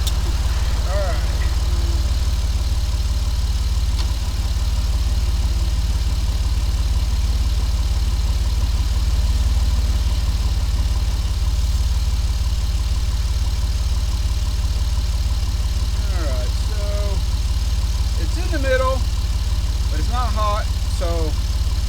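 Chrysler Jeep engine idling just after start-up, a steady low rumble throughout, with a person talking over it in the latter part.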